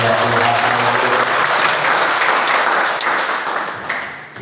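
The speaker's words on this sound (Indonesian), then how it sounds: "kita berikan tepuk tangan lagi buat Tuhan" A church congregation applauds in sustained, dense clapping that holds steady and fades slightly toward the end, with no talk over it.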